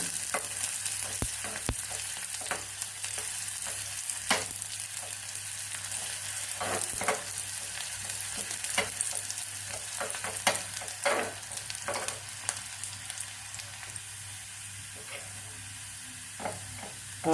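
Sliced red onions fry in hot oil in a pan, giving a soft continuous sizzle with scattered crackles and occasional stirring scrapes, quiet and close with no talking.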